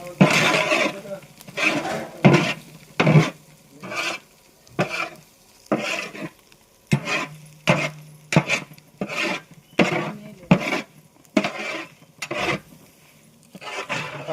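Goat meat tossed with coriander powder and garam masala, stirred in a pan with a rhythmic series of scraping, sizzling strokes, each pass distinct, some quiet talk in between.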